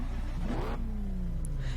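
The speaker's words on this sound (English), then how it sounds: "let's start the engine" A Chevrolet Corvette C7 Stingray's engine in Test Drive Unlimited 2 cranks and catches, rising in a quick rev before settling into a steady, droning idle, close and loud.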